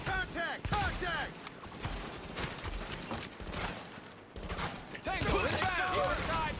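Video game firefight with dense rapid gunfire, bursts of shots rattling close and continuous throughout, under shouted voices calling out combat commands.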